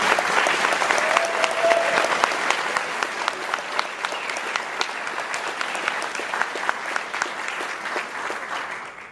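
Sustained applause from an audience at a retirement reception, steady dense clapping filling the room for the full stretch without talk.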